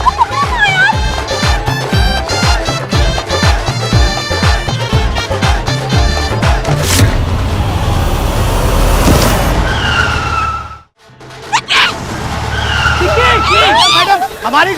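Car tyres skid loudly on the road during a festive Holi street scene, a long harsh squeal over a revving engine that ends in a sudden stop and brief silence, followed by shouting voices.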